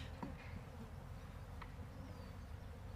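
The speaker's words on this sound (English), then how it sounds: "You just hear the start doing bzzz, the buzzing." A soft, continuous buzzing of many honeybees at an open hive, like a swarm nearby, with a few brief louder passes over a low hum.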